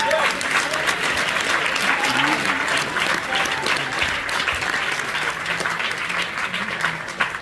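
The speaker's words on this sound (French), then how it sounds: "Je vous demande d'applaudir Franck Dubois, Grégory Rodriguez et Sophie Guilherme" A festival closing-ceremony audience applauds the short-film jury as it is introduced, with broad continuous clapping from a large hall crowd and faint voices beneath it.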